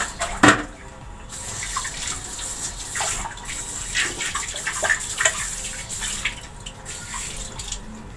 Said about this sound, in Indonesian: nanti kita semprot sedikit